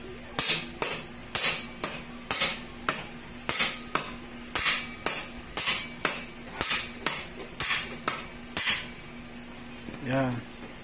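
About a dozen sharp metallic hammer strikes on the engine crankcase of a Honda Click 125 scooter ring out in a steady rhythm, close and loud, each with a bright clanging decay.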